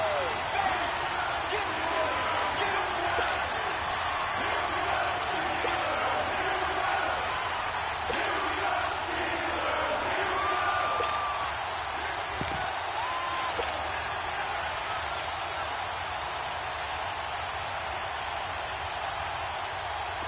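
Stadium crowd roars and cheers steadily in an American football video game on PS4 ahead of a big third-and-goal down, a broad, constant wash of noise under ongoing play-by-play commentary.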